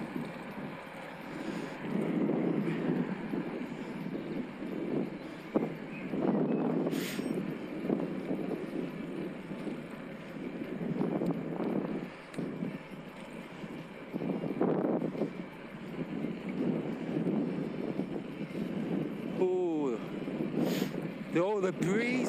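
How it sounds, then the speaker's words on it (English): Steady, blustery wind roars across the microphone while a hybrid bike rolls fast into a headwind on an evening ride, with someone talking over it throughout. "Oh, the breeze is amazing."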